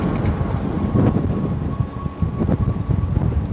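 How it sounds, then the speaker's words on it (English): Steady, roaring wind buffets the microphone of a cyclist riding into a headwind on a Washington DC street, a dense continuous rumble with gusty surges and a faint tonal whine. "Now I'm going into a headwind. You guys can probably hear that on my microphone."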